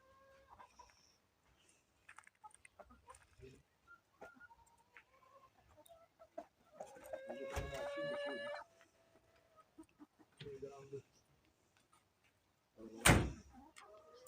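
A rooster or hen gives a loud, harmonic call in the middle, with scattered clucks and small farmyard noises around it in a village and a sharp knock near the end.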